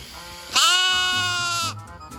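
A single sheep bleats once during shearing on a farm, loud and close, a wavering nasal call lasting about a second, with quiet background before and after.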